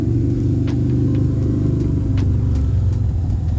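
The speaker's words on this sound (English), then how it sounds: "I apologize for the road noise" Continuous road traffic rumbles on a bridge, a loud, steady low roar of passing cars with faint intermittent ticks and thumps from vehicles crossing overhead, close and unbroken throughout.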